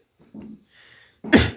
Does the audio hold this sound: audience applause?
no